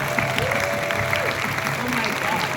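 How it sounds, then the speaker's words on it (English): An audience applauds after a short-film screening at a festival Q&A, steady clapping that lasts the whole short stretch, with voices talking over it. "A round of applause for these amazing."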